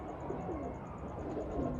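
Teddy pigeons coo nearby in a low, rolling, continuous murmur, with a faint regular ticking above.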